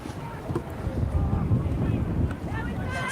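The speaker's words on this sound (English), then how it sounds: "It's a big gust of wind there." A big gust of wind buffets the microphone at a women's football match between Hampton & Richmond Borough Ladies and Clapton CFC, a steady low roar lasting throughout.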